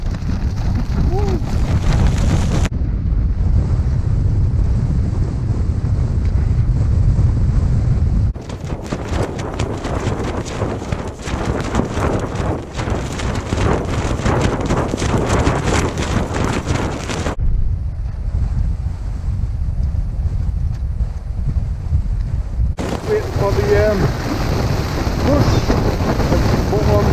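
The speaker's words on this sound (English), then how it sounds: "It's absolutely horrendous, this wind, like really bad wind." Strong storm wind buffets a wild camp on Little Sca Fell with a Hilleberg Anjan 2 tent, roaring loud and near across the whole stretch in continuous heavy gusts with steady low rumble.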